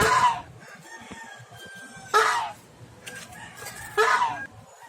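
Hungry farm geese and ducks call out in a few loud, harsh honks and squawks spaced about two seconds apart, close by over a low rustling background.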